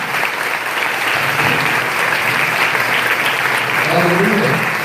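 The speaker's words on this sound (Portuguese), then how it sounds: "Vamos receber o apóstolo com muitas palmas" Church congregation clapping loudly and continuously to welcome an apostle on stage, a dense, even roar of palms with a few voices rising near the end.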